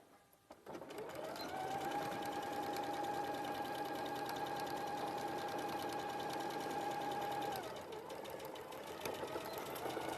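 A sewing machine stitches fabric in one steady, even run for several seconds before slowing and stopping. The close, continuous mechanical whir sits alone with no talk over it.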